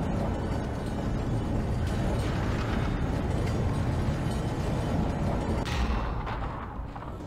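A pulse rifle in Dead Space blasts in continuous loud gunfire layered with heavy explosive rumble, dense and unbroken for most of the stretch before easing off at the end.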